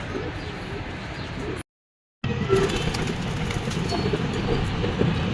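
Pigeons kept in a fancier's loft coo amid a steady, busy background wash that briefly cuts out to silence partway through; the cooing is modest in level, with no clear speech.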